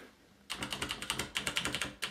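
Rapid typing on an Ozone Strike mechanical keyboard clatters after a short quiet start, with a steady run of crisp, close keystrokes and a brief pause before a final burst.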